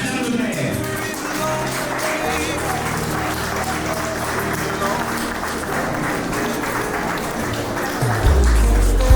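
Sustained, dense applause fills a French civil wedding hall as guests stand for the civil registrar's entrance, a steady loud wash of clapping with a low thump near the end.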